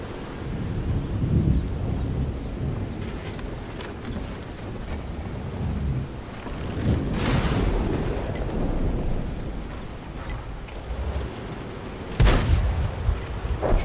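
Heavy booming blasts roll out over a constant rumbling background in a video game, with one sharp, loud shot near the end, like gunfire in a noisy battle.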